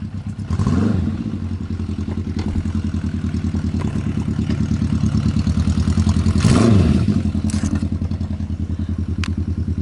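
A 1972 Honda CB350F four-cylinder motorcycle with a custom exhaust runs nearby, giving a loud, even, buzzy engine drone with brief revs rising near the start and again later, with no speech.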